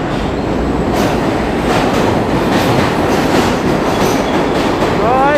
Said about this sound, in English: It's only the subway is going uptown.